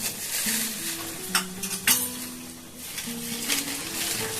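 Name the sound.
nigella seeds added to hot oil, sizzling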